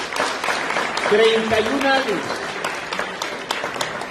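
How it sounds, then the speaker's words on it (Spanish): Congregation applauding during an Easter resurrection church service, a burst of clapping that swells briefly and then fades, mixed with a speaking voice and crowd murmur. "Un aplauso, por favor"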